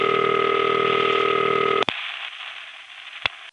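A steady electromechanical telephone ring from a crossbar exchange buzzes loudly for about two seconds, then cuts off abruptly, followed by a faint hiss and a couple of clicks.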